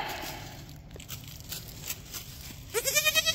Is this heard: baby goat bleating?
yes